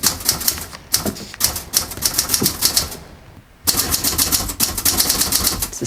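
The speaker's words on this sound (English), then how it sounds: "The same typewriter you bought me all those years ago." An old manual typewriter clacks in rapid bursts of sharp key strikes, close and crisp, with a brief silent pause in the middle before the steady typing resumes.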